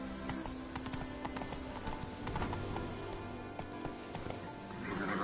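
The horse Roach gallops in The Witcher 3 video game, its hooves clopping in a quick, steady rhythm close up, with a light patter of rain behind them.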